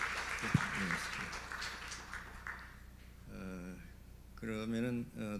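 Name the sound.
audience applause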